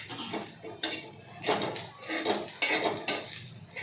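A metal spoon stirs browned coconut and onion in a hot pan for mutton curry, scraping and clinking against the pan in irregular strokes over a faint sizzle, close and fairly loud.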